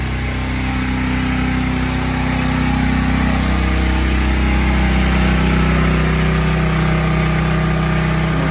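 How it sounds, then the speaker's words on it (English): A new generator runs steadily and loudly up close, its constant engine drone unbroken throughout with no talking. "We'll check the generator out."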